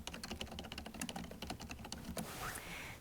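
A title being typed on a computer keyboard, with rapid, steady key clicks up close, followed by a short quieter stretch of soft room noise at the end.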